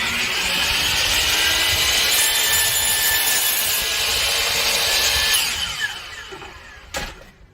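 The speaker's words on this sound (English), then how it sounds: "this is the easiest job that this miter saw probably ever had" A DeWalt miter saw cuts through a piece of wood, a loud, close, sustained whining rasp for about five seconds before the blade spins down, followed by a short knock.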